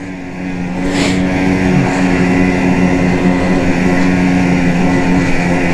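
A 2020 Ski-Doo Backcountry XRS snowmobile engine roars loud and steady at close range while riding, a continuous high-revving drone with slight pitch swells and no speech.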